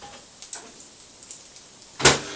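A microwave door is worked while rice goes in to heat: a sharp click near the start and a louder latch thump about a second and a half later, over a low background hiss.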